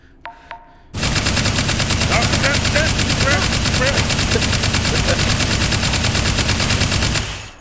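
Sustained automatic gunfire from a stockless gun in the H3VR virtual reality game, a loud continuous rapid burst lasting about six seconds after two brief clicks, then stopping abruptly.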